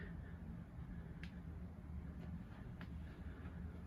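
A model railroad reefer block train rolls past the RIP track at Hearne Junction on a layout, giving a steady low rumble with faint clicks from wheels and track joints, moderately near and without talk.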